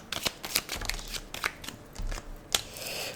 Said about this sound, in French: je vais mélanger mes cartes un peu plus comme ça